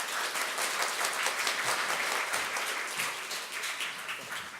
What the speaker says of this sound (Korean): 여러분 큰 박수로 모시겠습니다.